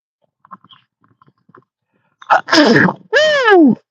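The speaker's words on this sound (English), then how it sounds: "I gotta sneeze" A single loud sneeze with a sharp inhale and forceful burst, preceded by faint quiet rustling, close to the microphone.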